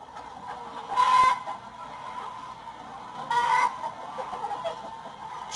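Chickens in a farm henhouse at an egg operation, with two brief bursts of louder clucking and fussing over a steady, busy background of hen chatter.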